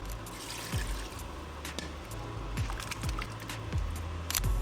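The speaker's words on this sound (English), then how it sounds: "I'll then stir and add a little bit of water" Water is poured into a pot of egusi soup with crayfish and stock, a soft continuous filling splash with a few sharp clinks and knocks scattered through it, fairly quiet and close.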